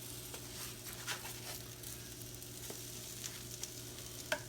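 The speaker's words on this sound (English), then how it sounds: "You don't want the fire to be too hot because you want to allow the French toast to cook." French toast frying in a skillet over moderate heat, a quiet steady sizzle with faint crackles and an occasional light clink of a utensil.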